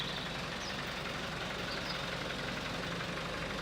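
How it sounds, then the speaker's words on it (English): Tractor engine running to drive a slurry agitator on a farm, a steady low idling drone with a knocking diesel texture, continuous and fairly close, no voices. "the slurry pit is mixed using a tractor and a machine called an agitator"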